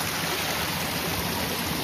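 A stream runs through a cool hillside tea garden about 3,500 feet up, giving a steady, dense, close rush of water with no voices.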